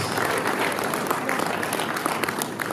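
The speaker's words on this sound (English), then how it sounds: "a big round of applause" A crowd applauds as a guest is welcomed to the high table at the opening of the NPA 2017 congress, a dense, steady wash of clapping filling the hall throughout with no break.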